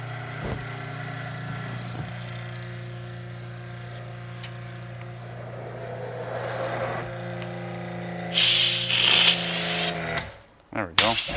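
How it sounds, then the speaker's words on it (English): Pressure washer spraying deionized water during a car wash, a steady motor hum building to a loud hissing spray burst near the end, with people talking. "Turn some DI water on. Turn on a pressure washer."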